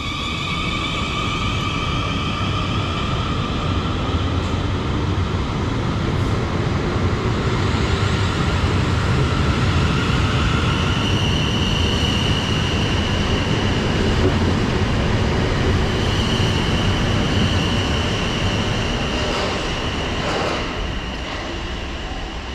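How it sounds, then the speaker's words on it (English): Two coupled Class 450 electric trains, units 450095 and 450064, pull out of Putney station bound for Weybridge. They make a loud, continuous rumble with whining motor tones that builds and holds throughout, heard up close from the platform. "departing out now is 450095 and 450064, heading to Weybridge"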